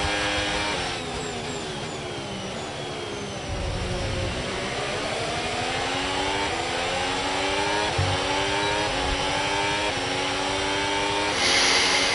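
Ferrari SF-26 Formula 1 car engine in the F1 26 racing game at Canada, a loud continuous high-pitched whine rising and falling through gear shifts as the throttle is worked.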